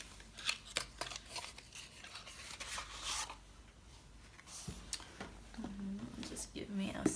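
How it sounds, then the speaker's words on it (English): Tarot cards being pulled from a deck, giving soft papery slides and light snaps, close by and quiet, with faint whispery speech around them. "Just gonna get these cards out."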